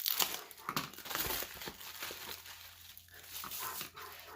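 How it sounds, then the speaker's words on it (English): Pet dogs make small noises indoors, with a few quiet yips or barks mixed with crinkly, rustling scuffles. The sounds come in irregular bursts at low volume and nobody talks. "I like how my dogs contribute to the ASMR."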